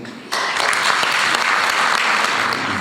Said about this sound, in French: une bonne main d'applaudissements leur sera nécessaire